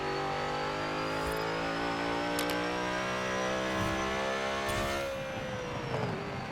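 Zenvo TSR-S engine in Forza Horizon 4 revving hard under acceleration, a loud continuous whine that climbs steadily in pitch through the gears, with a brief dip near the end, no talking over it.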